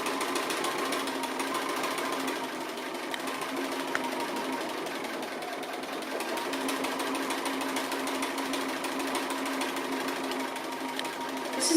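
A sewing machine stitches applique thread lines in a steady, fast, continuous mechanical whir and needle chatter, close and loud, running unbroken for about twelve seconds.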